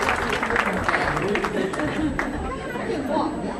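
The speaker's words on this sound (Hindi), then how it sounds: "यार ताली वाली बजाओ ना" Scattered clapping and crowd chatter fill a room at a family aqiqah gathering, moderately loud and continuous, with people talking and murmuring throughout.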